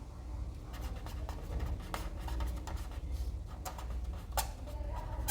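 A pen writes on paper during a geometry proof, with soft scratchy strokes and short ticks over a steady low hum, close and fairly quiet with no talk.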